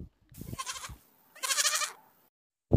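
A goat bleats twice in separate wavering calls, close and clear, with a short thump at the end.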